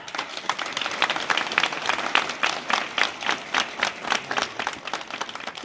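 A school concert audience at a New Year carol concert applauds steadily, a dense patter of many hands clapping with some rhythmic swells, fairly close and continuous throughout.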